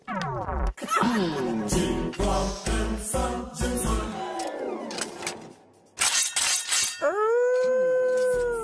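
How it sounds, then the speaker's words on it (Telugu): A dog howls in long, wavering, drawn-out tones, mixed with sharp crashes and clatter, ending on one sustained, steady howl. "శ్మశానంలో కుక్కరిచినట్టు?"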